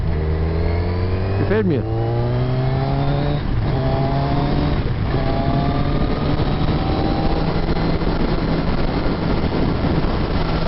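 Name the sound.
Kawasaki Z1000R motorcycle exhaust engine sound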